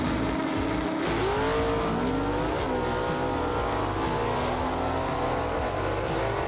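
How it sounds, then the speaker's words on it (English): A 1956 Pontiac Chieftain wagon with a 406 cubic inch Butler Performance engine roars down a drag strip, its loud, steady engine note rising in pitch as it accelerates, with no voices. "It's going to be that 1956 Pontiac Chieftain wagon. That is Randy Kiefer with that 406 cubic inch Butler Performance engine"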